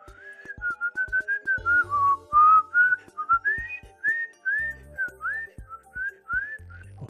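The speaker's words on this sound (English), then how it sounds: "I was whistling." A melodic whistled tune from the Ace Attorney: Spirit of Justice courtroom game, many short rising and falling phrases over about seven seconds, with steady game clicks beneath and no talking.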